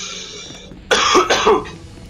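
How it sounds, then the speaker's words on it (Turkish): A person coughs loudly in a short burst of two or three harsh coughs, close to the microphone after a quiet moment. "Video öksürüklü geçecek."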